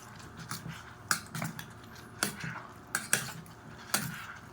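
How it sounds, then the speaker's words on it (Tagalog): Pancit canton pasta tossed and stirred in a pan with adobo sauce, giving a series of close, irregular metallic scrapes and clinks from the utensil against the pan over a quiet background. "Imekos-mekos lang hanggang sa lahat ng pasta ay magkulay na adobo na."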